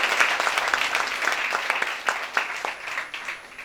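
Audience applause at a Smart Value / APLL recognition program in Gorakhpur, a steady wash of many hands clapping for several seconds, fairly close and even, with no talking over it.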